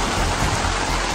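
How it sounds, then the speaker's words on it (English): Heavy rain drumming on a tent during a storm while camping, a dense, steady, loud hiss of drops hitting the fabric close by with no talk. "Because it's really raining."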